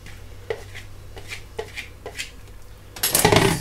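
Chopped vegetables tossed into a pot of boiling water for a vegetable stew, a few light clinks and knocks followed by a loud splashing rush near the end, close up with no talk.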